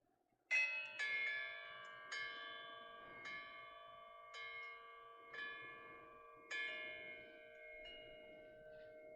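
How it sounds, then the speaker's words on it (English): A church bell rings out in a series of loud, resonant strikes, each one followed by a long shimmering ring that keeps fading beneath the next, with about six clear strikes and no speech. "My favorite bell from our church."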